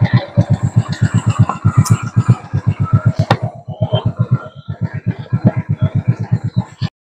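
A motor vehicle engine runs close up with a loud, steady, rapid thumping pulse throughout, like a small engine idling with even rhythmic beats and no talk over it.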